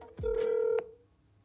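Phone call tones on a Google Pixel 10 Pro Fold: a single steady electronic beep, loud and close, lasting about half a second, with no voices.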